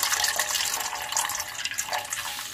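Liquid from a boiled dark-green plant brew being poured off, a steady close splashing stream that runs throughout with no talk.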